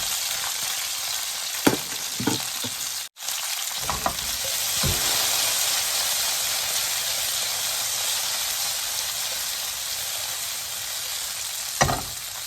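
Vegetables stir-fry with crispy pork in a hot pan, a loud, constant hissing sizzle marked by a few sharp scrapes and clanks of a spatula near the start and end.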